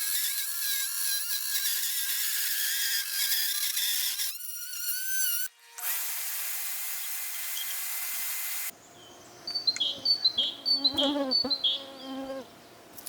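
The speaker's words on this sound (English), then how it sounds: "It's spring here in California and the mosquitoes are out in full force." Mosquitoes buzz outdoors in springtime California. A continuous, harmonic-rich whine shifts in pitch and texture, then breaks into close, darting buzzes near the end.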